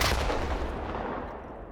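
An RPG-7 rocket launcher fires in the video game S.T.A.L.K.E.R. 2, a single loud booming blast with a long decaying rumble that fades out.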